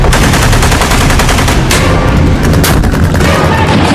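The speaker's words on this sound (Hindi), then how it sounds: "शहरों, गांव, कस्बों में गोलियां चल रही हैं।" Dense gunfire in a war zone in Afghanistan, loud, continuous rattling shots with heavy booms running through the whole stretch, no speech.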